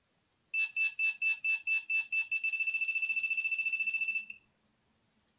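A metal detecting pinpointer beeps alone in a rapid series of high electronic tones, first pulsed bursts, then a faster continuous trill that stops abruptly.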